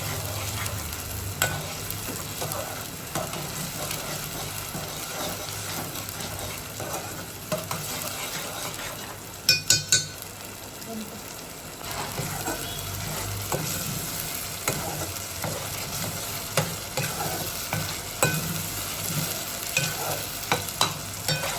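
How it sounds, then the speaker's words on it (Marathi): Manchurian paste frying in a pan, with a steady soft sizzle and repeated scraping and clinking of a spoon stirring it, a brief louder cluster of clatter midway. "चांगली शिजू द्यायची पेस्ट आपल्याला."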